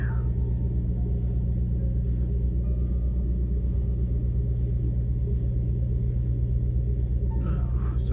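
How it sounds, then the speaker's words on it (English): Trucks move around nearby, a loud, constant low engine rumble with a steady throb that fills the whole stretch, with a faint higher noise near the end. "Sorry, trucks are moving around."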